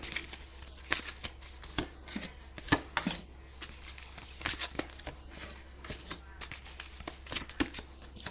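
Tarot cards are shuffled by hand in a steady series of crisp, papery riffles and slaps, close and fairly loud, with short gaps between bursts.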